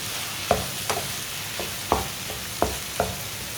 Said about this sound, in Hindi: कद्दूकस किए हुए अंडे डालेंगे। अच्छी तरह मिक्स कर लेते हैं।